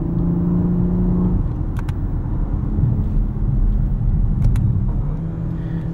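Interior of a 2018 Lexus LS 500 F Sport (RWD) accelerating in manual mode with paddle shifters; a steady low engine and road rumble, a drop in pitch as a gear changes, and a few faint clicks.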